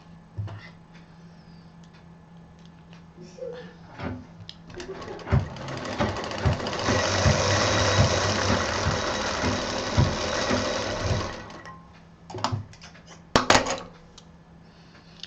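A bobbin winder, a quick-fill gadget from a sewing craft shop, whirs steadily for several seconds in the middle, framed by scattered clicks and handling knocks before and after.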